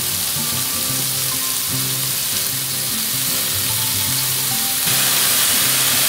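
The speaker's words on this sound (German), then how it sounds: "jetzt die Morchel zugeben und das Ganze ein bisschen schmoren lassen" Morels sizzle and crackle in a pan on a gas grill, a dense continuous frying hiss under a faint rhythmic background tune, steady throughout with no voices.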